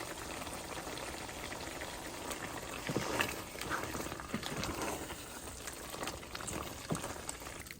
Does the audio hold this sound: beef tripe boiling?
yes